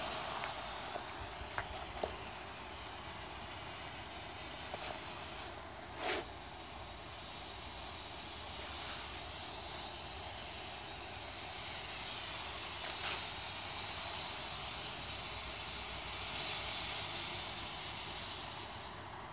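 A powdered sugar rocket motor burns in a test pit, with a sustained roaring hiss that holds steady and swells slightly toward the end, heard at moderate distance with no talk.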